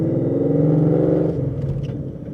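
A 2016 Ford Mustang RTR engine heard from inside the car, a loud low throaty drone that rises under acceleration and then drops off as a gear is shifted near 3,000 RPM.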